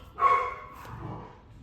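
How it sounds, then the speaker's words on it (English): A dog indoors gives one loud, close bark, followed by a fainter trailing whine. No talk is heard. "I don't know what I was saying before the dog started barking"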